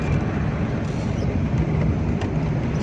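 Suzuki Mehran car driving steadily after a gear repair, a continuous low engine and road rumble with faint higher whine, close and even throughout with no distinct knocks.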